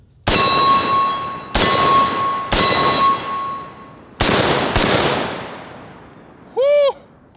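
.50 Beowulf rifle fired five times, each a sharp, loud crack with a long ringing metallic decay, spaced irregularly over several seconds, followed by a brief warbling tone near the end.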